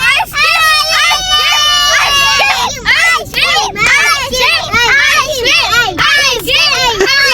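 Several children shout and shriek together in a loud, continuous clamour for ice cream, their high overlapping voices rising and falling close by for the whole stretch.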